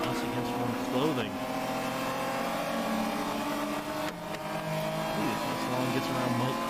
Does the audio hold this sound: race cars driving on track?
yes